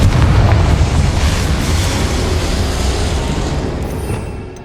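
A Bombarda explosion spell bursts in Hogwarts Legacy, a loud, deep booming blast that rolls on as a sustained rumble before tailing off.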